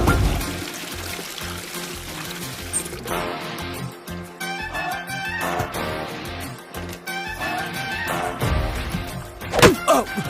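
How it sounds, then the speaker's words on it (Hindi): Water pours and splashes steadily with a few thunks and knocks, close and fairly loud, with music-like tonal layers running underneath. "दिख नहीं रहा पानी बह रहा है?"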